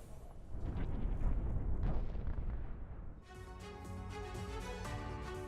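Explosions from a missile air strike on the town of Houla in southern Lebanon, a sustained heavy roaring rumble that fades after a few seconds into a steadier, brighter crackling noise, with no voices.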